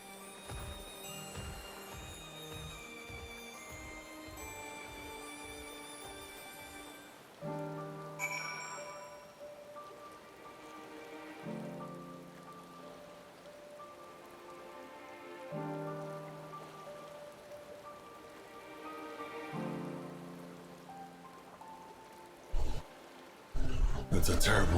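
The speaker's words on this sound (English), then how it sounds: "It's a terrible day for rain." Rain falls steadily in Final Fantasy XIV as a constant wash beneath swelling tonal music, with a few louder knocks near the end.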